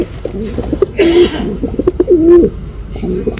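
Breeding pigeons coo in soft, low, repeated calls close by, with flutters and scattered chirps around them.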